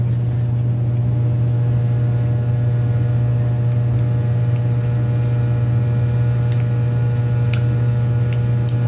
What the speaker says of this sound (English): Motor spins and lights work.